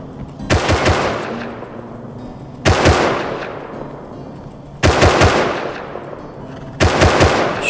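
Video game gunfire fired into a downed enemy's corpse, coming as four loud, close bursts of rapid shots roughly every two seconds, each trailing off into a decaying echo.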